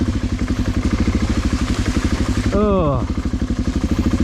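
BMW 650GS motorcycle riding offroad through storm puddles, engine chugging steadily and loud close by throughout, with a brief exclamation partway through.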